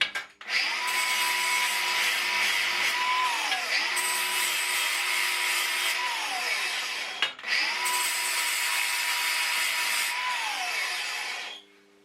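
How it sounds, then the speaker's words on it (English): Power tool cutting angle iron for a saw pedestal frame, in three long steady whining passes with a pitch that falls at the end of each cut, loud and close with no talk. "So you can see that I've cut out the angle iron framework now"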